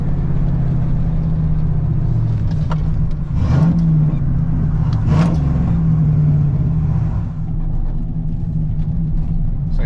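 Chevy Silverado with a 4.8 engine, headers and a cold air intake, idling with a rumbling exhaust and two quick throttle blips mid-way, heard up close with a faint voice in the background.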